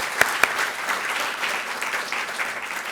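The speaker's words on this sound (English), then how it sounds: "I want to give an applause to Boar's Head" A crowd applauds steadily at close range, starting with two sharp claps and settling into a dense, even patter of clapping.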